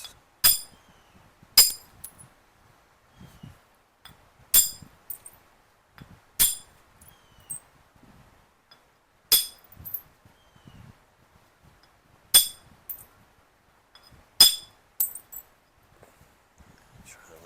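Obsidian knife blade being trimmed by flintknapping, giving sharp glassy clicks and snaps, about eight distinct strikes spaced a second or two apart, close and crisp with soft scraping and handling between them.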